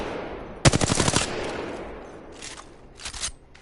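R301 rifle fire in a video game: a loud, close burst of rapid automatic shots, then two shorter bursts after a pause.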